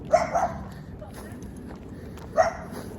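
A small dog gives a few short yips and barks, close by, with a pause between them over a noisy outdoor background.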